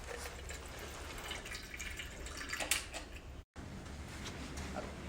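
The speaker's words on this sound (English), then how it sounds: "we just need to use this spare part and insert to the water outlet hole, okay? Then the water will come out." Water trickles and drips steadily from the outlet of a picosecond laser machine, a faint, close, continuous splashing broken by one very brief gap.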